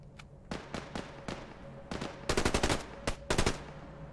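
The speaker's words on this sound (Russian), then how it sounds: "А, с нашего дома кто-то стреляет, походу." Gunfire in the survival shooter Fear The Wolves: sharp single shots at first, then quick rapid-fire bursts, loud and close with steady background hum and no talk.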